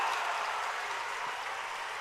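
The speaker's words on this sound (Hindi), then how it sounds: "यही बैठे बैठे जोरदार ताली बजा दो कि दिल्ली तक आपका अभिनंदन पहुंच जाए।" Applause from a seated audience at a Hindu religious assembly, a steady wash of clapping heard from some distance, fairly faint and continuous for a couple of seconds.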